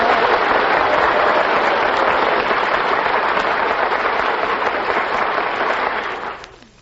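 Studio audience applauding the Furpo sisters on a television variety show, a dense, steady round of clapping that holds loud and continuous before fading at the end.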